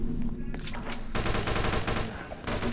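Rapid automatic gunfire in a video game, a dense burst of repeated shots after a brief pause, loud and close, with some faint speech around it.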